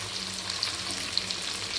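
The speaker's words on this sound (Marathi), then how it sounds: "आता छान कांदा भाजून घ्यायचा." Onions frying in a pan with curry leaves, giving a steady close sizzle with faint crackles and no voices.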